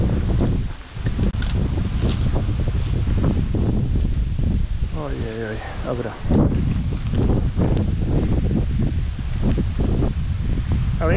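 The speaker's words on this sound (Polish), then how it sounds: "wiatr się ruszył" Wind gusts roar across the microphone and rustle leaves along a forest trail, steady and loud throughout, while someone speaks briefly over it.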